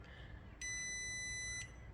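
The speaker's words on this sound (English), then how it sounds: "I just push this button on the side here on the display, like that, and you'll hear it beep" A JK BMS battery management system in a 12V lithium battery box gives a single steady electronic beep about one second long when switched on, quiet and alone against faint background hiss.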